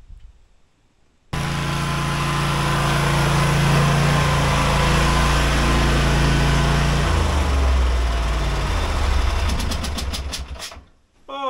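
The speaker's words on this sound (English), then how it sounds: "it's hard work mowing lawns" A ride-on lawn mower engine runs steadily and loud as the machine circles a lawn, starting abruptly after a quiet moment, holding a constant drone, then shifting and dropping away near the end.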